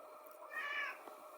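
A cat gives a single clear meow, rising and falling, heard close and indoors against a quiet room background.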